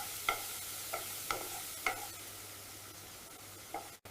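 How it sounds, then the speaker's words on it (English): Onion, ginger garlic and cashews sautéing in butter for paneer butter masala: a soft, low sizzle with a handful of sharp spoon clinks and scrapes spread across it, quiet and near, without any voices. "Add onion, ginger garlic and cashews and saute until soft and lightly golden."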